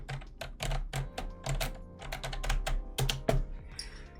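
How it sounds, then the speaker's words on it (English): Keyboard clacking in an anime-style game scene set in a commander's room, with close, crisp keystrokes in quick irregular bursts separated by short pauses over a low musical hum. "The clacking of the keyboard is the only sound that fills the commander's room"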